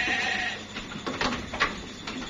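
F1 Dorper crossbreed lambs about a month old bleat in short, overlapping cries, several calls in quick succession at moderate volume with farm background.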